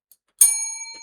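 A bell gives a single sharp ring, close and clear, with a bright metallic tone that hangs and slowly fades.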